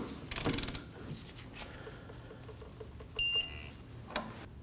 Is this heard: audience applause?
no